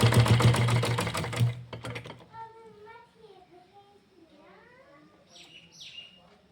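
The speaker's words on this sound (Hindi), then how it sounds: "आपने एक बार फिर से यहीं से ये सिलाई शुरू करनी है।" A sewing machine stitches fabric for a wrestling langot in a loud, fast mechanical whir that stops after about two seconds, followed by birds chirping in the background.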